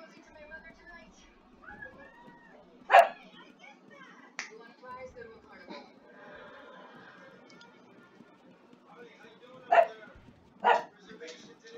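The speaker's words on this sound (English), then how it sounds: "My dog's going crazy." A dog barks in the background of a room, a few sharp isolated barks spread out over several seconds, mostly faint, with a person talking nearby.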